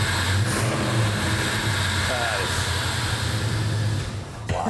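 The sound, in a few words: vintage car engine revving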